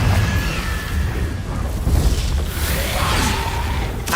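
A Confringo fire spell bursts in Hogwarts Legacy, a continuous booming explosion with rushing, crackling roar that stays loud and dense for about four seconds, with no talk over it.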